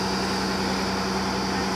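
A diesel engine powering a borewell drilling rig runs at a steady, loud, unbroken drone with a low hum, continuous throughout with no talking.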